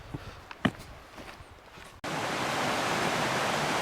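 Great Brook, a small stream, flows with a steady broad rushing wash that starts abruptly after a few quiet seconds of faint footsteps and outdoor rustle.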